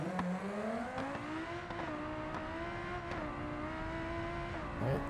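In the BeamNG.drive video game, a car with nitrous engaged accelerates hard on an off-road course. The engine drone is steady and close, its pitch climbing and holding, with a brief tire squeal at the very end.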